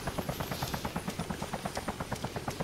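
Helicopter in the video game Arma 2: DayZ Mod, with rapid, even rotor thumps over a steady engine whine, at moderate distance and fairly quiet.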